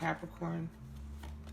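Tarot cards are shuffled by hand in a brief, soft rustle that follows a short spoken word, set against low city background noise.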